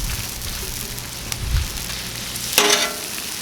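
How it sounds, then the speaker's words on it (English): Onions and sliced steak are mixed together on a hot Blackstone griddle for Philly cheesesteak, with a soft, steady sizzle, low scraping movement and a sharper spatula scrape near the end. No one speaks. "I'm gonna go ahead and mix that in there with that meat a little bit."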